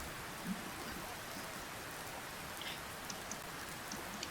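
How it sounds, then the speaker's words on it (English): Stormy night rain falls steadily on a campsite, a dense even patter with a few sharper drops standing out, close and continuous, with no voices. "Tonight's another stormy night."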